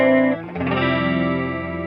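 Electric guitar played through a chorus effect from a pedalboard multi-effects unit, sustained chords shimmering with a wavering, doubled tone, loud and close with a brief dip before a new chord rings out.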